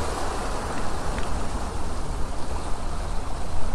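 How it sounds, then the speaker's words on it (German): Small sea waves wash onto the shore at Gran Canaria, a soft, continuous rushing with gentle swells rising and falling, no voices. "Könnt ihr es hören, das Meer? Ich hoffe doch. Die kleinen Wellen hier."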